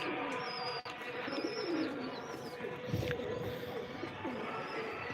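Pigeons coo softly in low, rolling murmurs, with a few faint chirps and whistles from other birds in the background.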